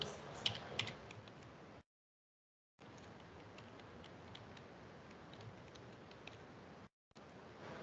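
Keys clatter steadily on a computer keyboard as an email address is typed during Erlang programming, quick close clicks running without voices, broken by a pause of about a second and a brief silent gap.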